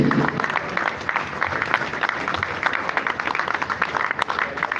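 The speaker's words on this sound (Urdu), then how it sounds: "بھرپور تالیوں میں استقبال کیجیے" Audience at a traders' convention applauding to welcome a speaker, sustained clapping from a large hall crowd with a faint voice underneath.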